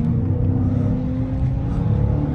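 Car engine from a 2023 Scat Pack, presumably a Dodge, droning loud and steady as it downshifts and revs, a continuous low rumble with no voices over it.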